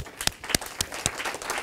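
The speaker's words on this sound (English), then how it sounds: "Round of applause" A small audience at a joint venture marketing session gives a short round of applause, a few distinct sharp claps spaced irregularly over under two seconds.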